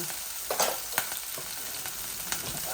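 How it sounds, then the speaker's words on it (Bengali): Onion and garlic sizzle steadily in hot oil in a pan, with a few sharp stirring scrapes and spatter pops over the constant frying hiss; no voices. "একটু ভাজা ভাজা হয়ে যাক।"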